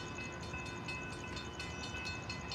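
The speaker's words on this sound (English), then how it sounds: "This is not a rocket train, though." A train rolls past near Stuart, Florida, a steady, broad rumble with faint rhythmic clatter and a thin high tone, holding at constant loudness for the whole stretch with no voices.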